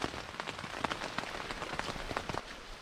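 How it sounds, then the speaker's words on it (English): Rain falling on a hiking trail on the Appalachian Trail, a close, steady patter of drops striking surfaces with scattered sharper taps, soft and continuous with no talking. "day 2 very much starts off in the rain"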